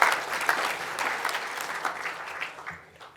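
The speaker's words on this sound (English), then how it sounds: "Give the mayor a round of applause again as well." Gala dinner guests applaud the mayor in a banquet hall, a dense burst of clapping that starts strong and gradually tapers off over a few seconds.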